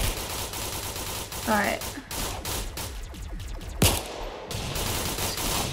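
Gunfire in the Roblox Arsenal video game: rapid bursts of shots over busy game noise with one sharp louder report, while a player talks over it.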